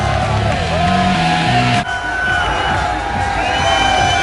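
Football stadium crowd at Pac Bell cheering and yelling as a dense, continuous roar, with a commentator talking over it.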